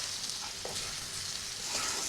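Rava balls are stirred gently into an onion, tomato and capsicum masala frying in a pan, giving a soft continuous sizzle with a few light scraping stirs, close but quiet, with no voices.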